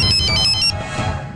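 A phone ringtone plays briefly, a bright electronic melody that cuts off after under a second over low background noise.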